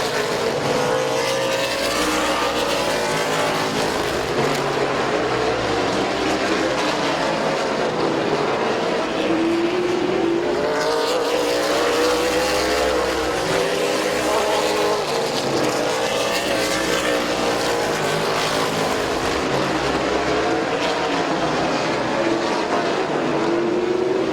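Race cars lapping Midvale Speedway, a continuous loud roar of engines rising and falling as the pack passes, with no clear talk over it.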